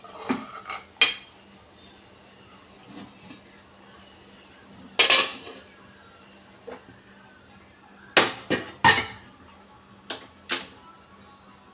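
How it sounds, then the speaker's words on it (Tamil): Metal vessels clink and clatter in scattered bursts, a few sharp knocks as one is set into a heated idli steamer pot, against a quiet background hum. "இதை எடுத்து இட்லி பாத்திரத்துக்குள்ளே வச்சிடலாம்"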